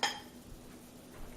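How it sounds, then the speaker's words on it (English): Metal kitchen utensils clink and rattle briefly as a non-scratching whisk is pulled out while a roux is being made for turkey tetrazzini, one sharp close clatter at the start and then quiet room noise. "I need to get a whisk."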